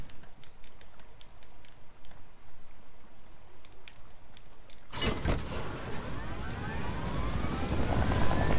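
A helicopter in Fortnite season 4 roars in at about the midpoint, a loud, dense rotor-and-engine wash with sweeping tones that builds steadily. Before it, only quiet game ambience and faint clicks are heard.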